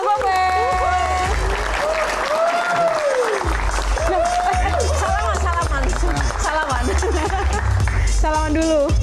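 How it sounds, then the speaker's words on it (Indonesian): A studio audience at an Indonesian comedy Q&A show gives comedian Komeng a loud, sustained round of applause and cheering as he is welcomed on stage, with upbeat music playing alongside. "Kita akan langsung saja beri tepuk tangan yang paling meriah untuk Bapak Alfian Syah alias Komeng."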